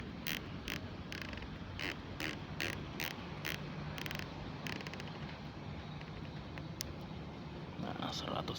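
A rifle scope turret being turned, giving a run of sharp, evenly spaced clicks at close range over steady outdoor noise, with some voice in the background, during a long-range test at 137 metres in strong wind.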